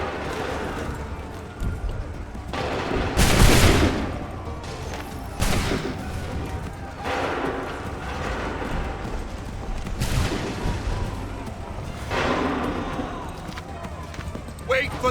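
Repeated musket volleys in Assassin's Creed III, several broad booming bursts every couple of seconds amid ongoing battle noise, with voices shouting commands between shots.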